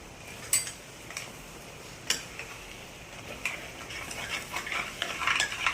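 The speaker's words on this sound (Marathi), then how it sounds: "असं परतून घ्यायचं छान" Yogurt and masala mixture with turmeric, stir-fried in a pan for homemade biryani: soft, steady scraping and faint sizzle, broken by a few sharp utensil clicks against the pan, fairly quiet and with no talking.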